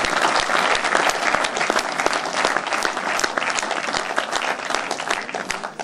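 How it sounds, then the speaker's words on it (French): Sustained applause from an audience at a table tennis club's awards evening, dense and loud clapping that continues evenly for several seconds without speech. "je pense qu'on peut les applaudir"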